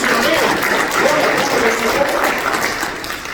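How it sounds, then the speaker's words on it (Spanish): A church congregation applauds at a Christian service, a dense, steady wash of clapping throughout with a voice speaking over it. "¿Le puedes dar un aplauso al Señor?"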